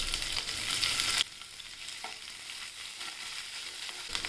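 Garlic and ginger hit hot oil in a pan with sautéed onion and cumin for a ragi vegetable soup, a loud close sizzle that suddenly drops to a softer, steady frying hiss with a few light clinks.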